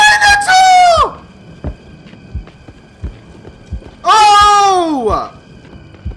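A video game Minotaur lets out two loud, drawn-out bellowing roars separated by a few seconds of heavy thudding footsteps.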